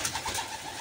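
Iraqi pigeons coo softly at close range, a brief low burble of a few rolling notes with no one talking.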